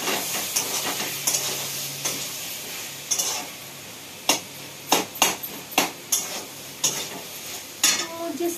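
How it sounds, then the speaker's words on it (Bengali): Potato pieces are tipped into a hot frying pan for a soybean curry, setting off a close sizzle, then a string of sharp clattering stirs and scrapes of a utensil against the pan at an uneven rhythm. "তো আলুটা দিয়ে দিচ্ছি বন্ধুরা"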